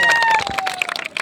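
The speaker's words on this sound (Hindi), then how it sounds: "जोरदार ताली बजाओ" Audience applause at a political rally in Madhya Pradesh, a burst of clapping with crowd noise that thins and turns patchy toward the end.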